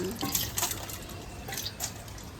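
Rice being washed in water, with soft splashing and dripping sloshes that come in a few brief bursts, close and fairly quiet.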